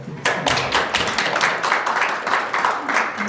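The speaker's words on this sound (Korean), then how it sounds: "김학식 총리께 마지막으로 박수를 부탁드리겠습니다" An audience at a policy forum applauds former prime minister Kim Hwang-sik, with many hands clapping in a dense, steady patter that swells at the start and holds loud through to the end.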